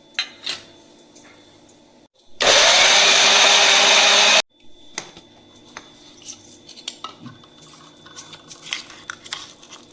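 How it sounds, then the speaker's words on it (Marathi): A kitchen mixer grinder roars loudly for about two seconds as it blends steamed vegetables for pea cutlets, set between quieter clinks and clatter of utensils before and after. "थंड झाल्यावर आपल्याला मिक्सरमध्ये फिरवून घ्यायचं आहे."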